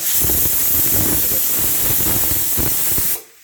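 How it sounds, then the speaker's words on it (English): A pressure cooker holding stir-fry gizzards vents steam in a loud, continuous hiss that cuts off abruptly near the end. "There goes our pressure cooker."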